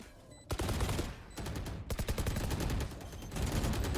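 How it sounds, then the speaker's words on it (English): Rapid bursts of automatic gunfire rattle almost nonstop during a Valorant match in an LPL 2021 Autumn Cup esports game, loud and close, with brief gaps between volleys. "That's Bliss pelting bullets left, right, center"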